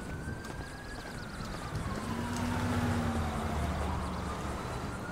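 Police sirens in the video game GTA V, a rising and falling wail sweeping through the mix at moderate distance, steady over about five seconds beneath busy game background noise.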